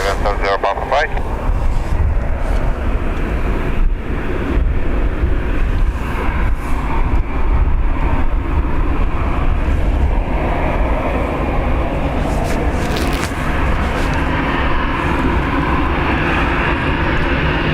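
Scandinavian flight 70, a jet airliner, takes off from runway 10R at Dublin Airport as a loud, continuous engine roar and rumble, with people talking over it throughout.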